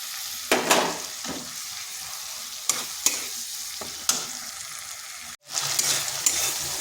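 Washed lentils being sautéed with spices in a pan for a vegetarian cabbage dish, with a steady soft sizzle broken by several sharp spoon scrapes and stirs, close up.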